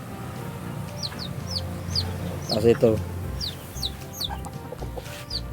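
Fighting cocks cluck in repeated short bursts close by, with a brief flurry of louder squawking midway, while someone talks over them.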